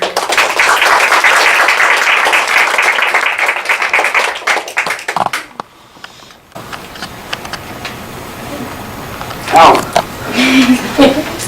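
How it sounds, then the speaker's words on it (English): A room of people gives a loud, close round of applause at a legislative event, sustained for several seconds before cutting off sharply, followed by quieter room noise, scattered claps and brief talk. "all of y'all deserve a good, big old round of applause for what you're doing today"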